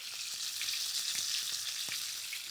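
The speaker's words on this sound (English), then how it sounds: "So let's add our ginger to the pan and we can also add our spring onions and our garlic." Ginger, spring onions and garlic frying in oil in a pan give a steady, close sizzle with a few soft taps of stirring scattered through, and no voices.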